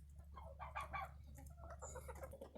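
Backyard chickens cluck in short, overlapping bursts close by over a steady low hum, with a brief higher squawk near the end.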